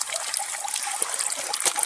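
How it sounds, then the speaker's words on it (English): Water drains out of a rowing boat that has been taking on water, a continuous close trickle and splash with no voices. "We've been draining the boat for like 8 minutes."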